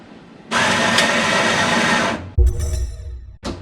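The built-in coffee grinder of a Primo Touch coffee machine whirs loudly and steadily for about two seconds during a grind test, then stops, followed by a softer rattling mechanical sound and a brief burst of noise.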